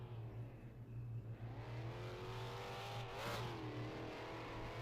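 Fox body stock car at an All American stockcar championship, accelerating down the front straightaway of a race track: a steady, loud engine drone with rising revs and a brief pass-by swell, no talk.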